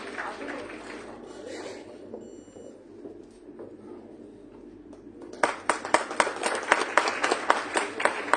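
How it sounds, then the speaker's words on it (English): Scattered clapping begins after a stretch of room noise and quiet talk, growing into a denser round of applause for the Managing Director of Morgan Stanley Consulting at an international academic conference in Ghaziabad. "Please put your hands together for Mr. Ashish Patel"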